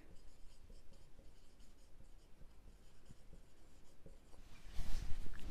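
A pen scratches across paper while a journal entry narration is written in an accounts exercise, steady soft scraping strokes up close, getting a little louder and rougher at the end with no speech.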